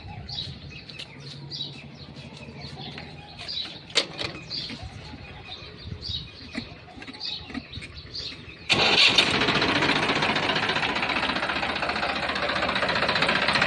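Birds chirp over quiet outdoor background, then a Massey 7250 tractor engine cranks and starts, settling into a loud, steady, close-up idle for the rest.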